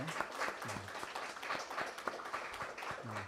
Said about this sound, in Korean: 서로를 위해서 박수 한번 하겠습니다